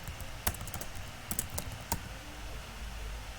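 Fingers type the flutter create command on a computer keyboard, a short burst of close, crisp key clicks in an uneven rhythm, then quiet.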